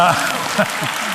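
An audience at a debate on fossil fuels gives a short burst of clapping, brief and moderately loud, with a voice speaking over it.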